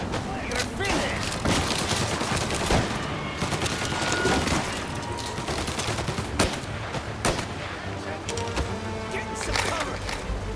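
Tommy gun bursts from a Mafia shootout, rapid dense rattling volleys fired again and again over about ten seconds, loud and close amid other gunfire and clatter.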